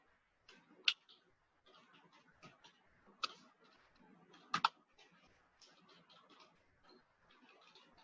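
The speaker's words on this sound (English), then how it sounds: "type the program code here" Program code is typed on a computer keyboard in a quiet room, a run of light, uneven key clicks with a few sharper, louder taps standing out.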